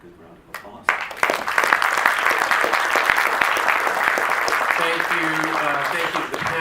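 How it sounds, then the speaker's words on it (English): An audience at a conference panel on Asia-Pacific trade breaks into loud, sustained applause after a brief quiet moment. The clapping stays strong, and a voice rises faintly under it toward the end. "we can give them all a good round of applause"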